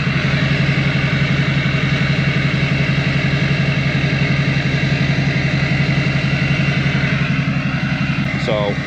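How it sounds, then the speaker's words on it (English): A Duramax diesel truck with a 5-inch axle dump exhaust idles with a steady, rhythmic low rumble that is loud and close, continuous throughout with a brief faint extra sound near the end. "Now it's got a little bit more rumble to it."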